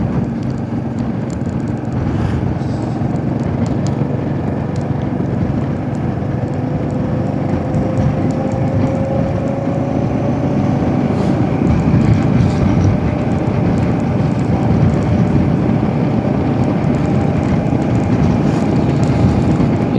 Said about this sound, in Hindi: तीन 3000 आरपीएम पर अपनी गाड़ी इस समय चल रही है और गियर हमने डाला है 5वां।